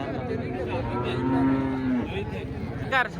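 A farmer's dairy cow at a cattle market in Kopargaon gives a long, loud, close moo, followed by quieter market chatter and a brief high sound at the end.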